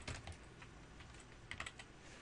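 Typing on a computer keyboard while working in Dreamweaver CS5: a short run of quiet, close key clicks in an irregular rhythm, with a small burst near the end, heard alone without any voices.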